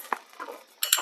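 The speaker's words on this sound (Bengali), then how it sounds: "অল্প একটু কর্নফ্লাওয়ার জলে গুলে আমি এর মধ্যে দিয়ে একটু মিশিয়ে নেব।" A spoon clinks lightly against a bowl while cornflour is stirred into water for orange pistachio ice cream: a single tap, a quiet pause, then a quick cluster of brighter metallic clicks near the end.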